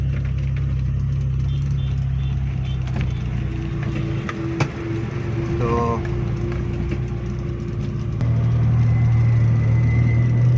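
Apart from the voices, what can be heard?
Suzuki Khyber pickup engine driving uphill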